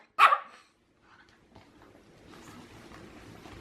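A dog lets out one sharp, loud bark near the start, followed by quieter rustling and soft background noise indoors.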